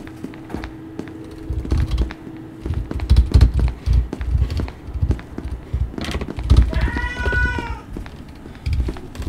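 A pet cat meows once, a short rising-falling call near the end, amid close handling bumps and soft clatter nearby.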